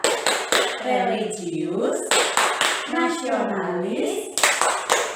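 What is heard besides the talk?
class clapping the PPK clap chant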